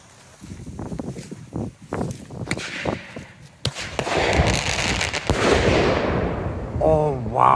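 A two-year-old single-shot firework called Red and Green goes off outdoors with a sharp loud bang and crackling burst, following footsteps and rustling, with a voice exclaiming at the end.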